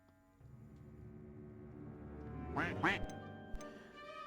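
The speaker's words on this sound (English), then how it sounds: "Where is this fucking duck noise coming from?" A duck gives two quick nasal quacks in a video game, fairly faint beneath a low hum of game ambience and music.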